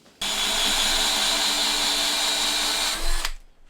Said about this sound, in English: I had to drop down the drill into first gear, so now another 2 to go.